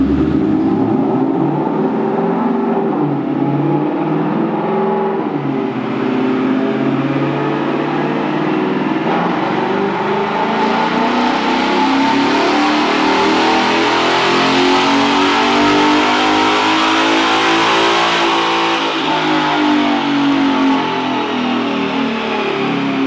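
A car engine revs hard and holds against the rev limiter on a dyno run, a loud continuous mid-pitched roar that climbs and bounces at the top for over twenty seconds with no talk.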